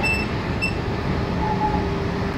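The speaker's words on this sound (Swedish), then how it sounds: "Stort tåg." Inside a large passenger train, a steady low rumble and hum of the carriage rolling along fills the space, loud and continuous, with a faint tonal whine and no talk.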